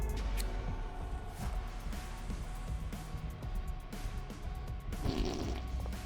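A cartoonish fart from a character in the game Schedule 1, a rough, sputtering rumble over a busy background of game noise.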